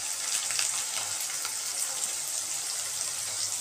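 Taro greens fry in a pan with garlic and peanuts, giving a steady, close, unbroken sizzling hiss throughout, with no talking.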